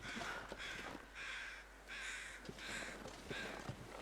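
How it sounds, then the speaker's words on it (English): A crow in the survival game The Long Dark caws in a string of four or five harsh, evenly spaced calls, moderately distant, with faint crunching steps underneath and no talking. "Let's see, that's the crow that we already know about."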